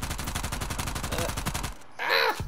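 Rapid automatic gunfire from a video game rattles in a fast, evenly spaced burst that stops abruptly, followed by a short, higher-pitched game sound effect.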